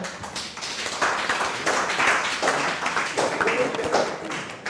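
Rhythmic clapping from one side of a full room at a conference session, steady and fairly loud, mixed with crowd voices throughout.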